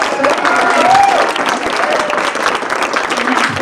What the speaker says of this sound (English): can we give a huge round of applause for Stephanie?